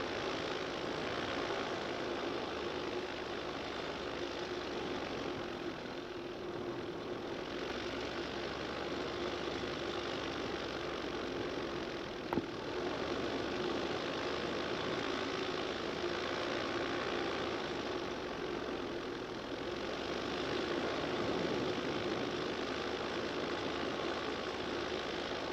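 An ITV Awak paramotor engine runs at low throttle in cruising flight, a continuous faint drone with propeller whir and wind rush that holds steady throughout.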